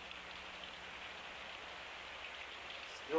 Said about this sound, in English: Still raining, Sam.